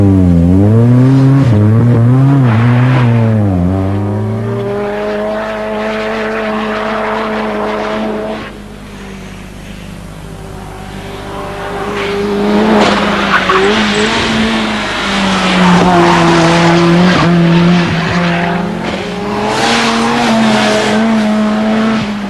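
A 1989 Ford Sierra RS Group A race car drives hard, its engine loud and close with rising and falling revs through gear changes and some tire squeal, with no voices.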